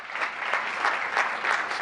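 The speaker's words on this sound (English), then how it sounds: "on behalf of the town of Gilbert, big round of applause" Brief applause from an audience at a town of Gilbert state-of-the-town event, moderate steady clapping that swells in small waves.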